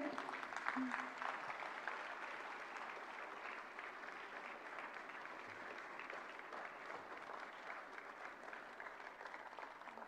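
A crowd at a healthcare conference's closing session breaks into steady, sustained applause for a five-year-old girl honoured as a health-scheme beneficiary, filling the hall evenly throughout with no speech over it.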